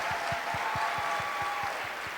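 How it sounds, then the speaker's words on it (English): Audience applause for the finalists of the 2014 Miss Africa USA pageant: a steady wash of clapping from a crowd, fairly even and sustained throughout, with a faint tonal hum underneath and no talking. "Can we give these young ladies a huge, huge round of applause?"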